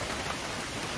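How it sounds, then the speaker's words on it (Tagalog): Heavy rain falls behind a house in the Philippines, a dense, even hiss of downpour close by with no pauses and no voices. "umuulan ngayon. Malakas ang ulan"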